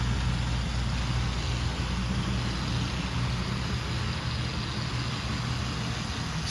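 An early-1950s model yard diesel switcher locomotive with a seven-pole motor runs quietly, a soft, steady, low whirring hum throughout with no voices.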